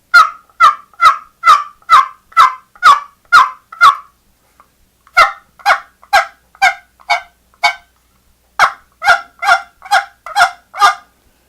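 Hen turkey yelps struck on a striker turkey call, loud and close, in three rhythmic runs of raspy clucking notes separated by short pauses.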